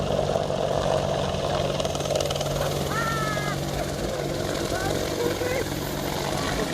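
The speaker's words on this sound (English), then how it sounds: "an Apache attack helicopter spotted them" An Apache attack helicopter drones steadily overhead with a constant rotor and engine hum, while people talk beneath it.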